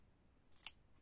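Scissors snipping through a paper card during scrapbook card customizing, one short crisp cut, close and fairly quiet against a near-silent background.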